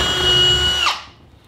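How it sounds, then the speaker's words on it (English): A power drill whirs loudly and steadily while boring a hole in a greenhouse, then winds down and stops abruptly, leaving faint background; no talk. "I'm drilling the hole."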